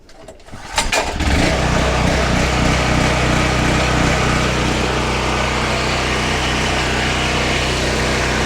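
A FIRMAN 3550 portable gas generator, model P0350, starts on the first pull after a short rattle from the recoil cord. It then settles into a loud, steady engine drone that carries on alone.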